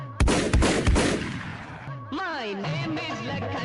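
Kar98 rifle fire in the PUBG video game: a few sharp, loud shots crack in quick succession at the start, then a voice takes over.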